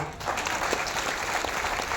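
Steady, dense applause from an audience at a Jan Suraaj political speech by Prashant Kishor in Bihar, filling the whole short stretch at an even, moderately loud level with no clear talk over it.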